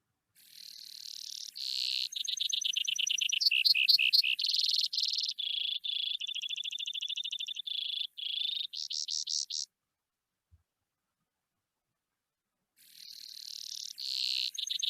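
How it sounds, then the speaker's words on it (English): A Brewer's sparrow sings a long, high, buzzy song of rapid trills and chirping phrases that shift pace, falls silent for a few seconds, then starts another song; clear and close, no voices. "This is a brewer sparrow."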